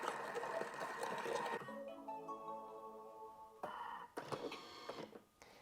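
Thermomix TM6 kitchen machine running while heating to 37 degrees, with faint motor whirring and a steady mechanical hum broken by a few rattling bursts, quiet and without talk.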